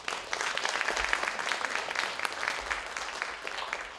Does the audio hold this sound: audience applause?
yes